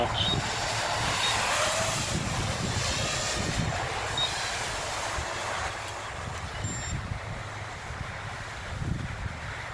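A quadcopter drone on an RDQ 4S battery lifts off and flies outdoors, its high whining motor hum steady beneath heavy wind buffeting on the microphone, fairly loud and close.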